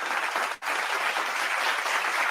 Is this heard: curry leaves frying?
no